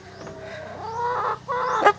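A ready-to-lay pullet clucks up close, a few drawn-out, rising squawky calls ending in a sharp burst.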